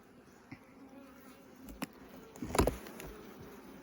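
Honey bees buzz steadily around an open nuc hive during a transfer to a full-size hive, a dense close hum with a few louder passes as individual bees fly near, no talking.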